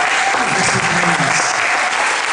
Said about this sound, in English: Give a round of applause for Dr. Kamika Witherspoon.